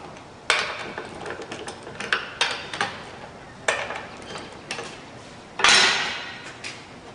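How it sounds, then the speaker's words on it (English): A ratchet with a 3/8-inch drive and a 3/4-inch socket works loose the cap screws on a pump during disassembly, making a series of sharp metallic clicks and clanks in irregular bursts, close by with no talk. "remove these cap screws with your 3/8 drive"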